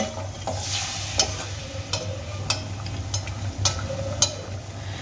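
Poa pitha batter of flour and semolina fries in hot oil in a pan, a steady close sizzle with several sharp clicks and taps of a utensil scattered through it.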